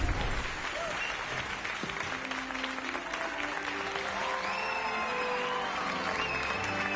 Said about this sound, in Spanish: Gryffindor aplaudiéndome.